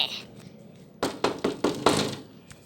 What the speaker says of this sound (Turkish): Kapı çalıyor yine.